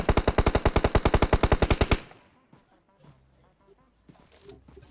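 PUBG Mobile gunfire opens with a rapid automatic burst of about twenty evenly spaced loud shots over two seconds, then drops to faint in-game sounds and quiet voices.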